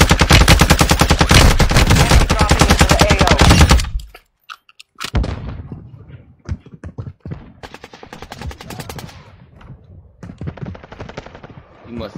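Sustained loud automatic gunfire from a multiplayer shooter video game hammers for several seconds, then breaks into scattered single shots and shorter bursts over continued game noise.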